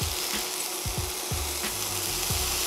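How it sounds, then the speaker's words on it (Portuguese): Crumbled tofu sizzles in hot olive oil for a vegan scrambled egg, a steady broadband frying hiss with repeated soft low thumps and crackles as pieces drop into the pan, close and continuous, with no talking. "O azeite já tá quente, vou começar a destroçar esse tofu"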